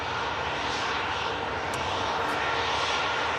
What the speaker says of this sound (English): Another aircraft on the roll. Austrian A320.